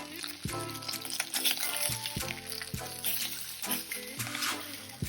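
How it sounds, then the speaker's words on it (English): Beef pieces sizzle and fry in a hot wok for a second batch of three-onion beef stir fry, a steady close crackle with clanks of the spatula against the metal and no talk. "I'm frying the beef in 2 stages"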